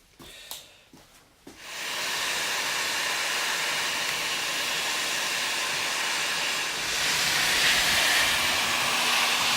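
A heat gun or torch blows a steady, loud rushing hiss while warming a swingarm part on a BMW R80 motorcycle. A few clanks come first, then the hiss starts and holds, swelling slightly toward the end.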